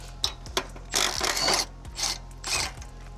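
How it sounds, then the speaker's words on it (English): A socket wrench works the rear axle nut on a Honda Shadow motorcycle, giving a few close, sharp ratcheting clicks and then several bursts of grinding, rasping turns, with no talk. "Next up is to get this nut off."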